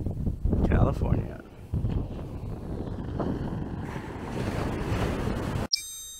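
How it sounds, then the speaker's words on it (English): Pacific Ocean waves and wind on the California coast, heavy wind buffeting the microphone with surf washing in underneath, loud and rough throughout before stopping abruptly near the end. "The Pacific Ocean,"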